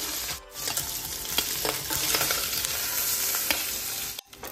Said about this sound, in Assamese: মাছকেইডোখৰ ভাজা হৈ গ'ল, মাছখিনি একেবাৰে ৰঙচুৱা কৰা নাই, মই হাফ ফ্ৰাই কৰিছোঁ।